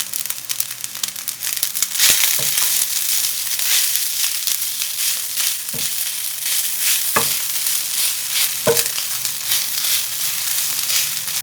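Leftover rice fries and sizzles steadily in a white non-stick pan as vegetables are stirred in, with a continuous hiss broken by a few sharp scrapes and taps of the utensil, close and without talking.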